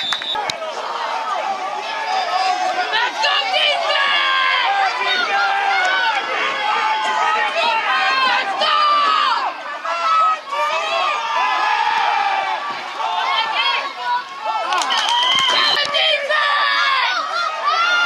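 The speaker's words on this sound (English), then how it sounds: "Shut this crowd up." A roller derby crowd at a Wisconsin Wolfpack vs Waukesha bout keeps up a steady roar of shouting, whooping and cheering, with voices calling out throughout.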